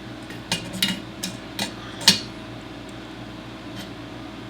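A 3/4 inch wrench tightens a Teflon-taped fitting on a leaking air compressor, giving a few light metallic clicks and clinks spread over several seconds, fairly quiet and close.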